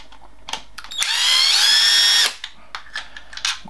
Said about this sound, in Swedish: Jag tar naturligtvis en Mectos Multiseries 18 volts. Batteridriven maskin här, så vi får lös skruvarna.